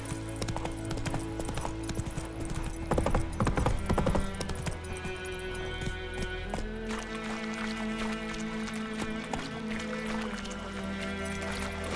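Geralt's horse Roach galloping in The Witcher 3, steady rhythmic hoofbeats under a sustained musical score, with the clopping heavier and louder near the middle.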